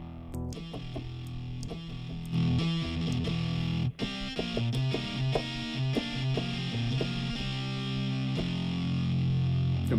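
Distorted tones run through the Audio Assault Grind Machine 2 distortion plugin, giving a dense, gritty, sustained sound with sharp attacks and a brief dropout near the middle.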